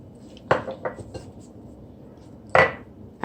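Paprika and cayenne pepper being mixed in a bowl: a few sharp utensil clinks against the bowl, with light scraping between them and quiet stretches in between.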